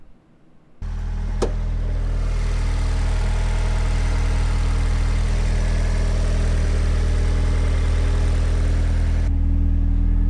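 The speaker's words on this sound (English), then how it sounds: "put in the engine that I built with forged internals" A turbocharged Mazda Miata with a freshly built forged-internals engine starts and settles into a loud, steady idle with a deep, even drone and a brief sharp transient early on, running alone without speech.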